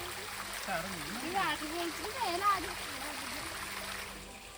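The small Alexander Falls waterfall in Mauritius trickles with a steady, soft wash of falling water, heard faintly under a person talking throughout.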